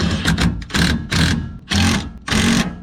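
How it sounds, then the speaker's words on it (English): Impact wrench driving a bolt in on a Chevy Colorado suspension, five short rattling bursts with brief pauses between them, loud and close. "I'm gonna impact it down to thread it as the bolt goes in"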